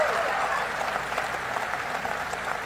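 An audience at a State of the Nation Address applauds, a steady wash of many hands clapping that stays even and moderately loud throughout.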